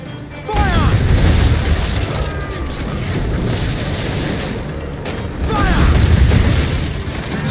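Ship cannons fire during a naval battle in Assassin's Creed Black Flag: deep, heavy booms roll out, with a second volley near the end over a constant roar of wind and sea.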